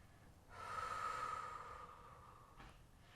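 One slow, deep breath taken during a yoga practice, a long airy exhale that swells and then fades, very faint and close in a quiet room.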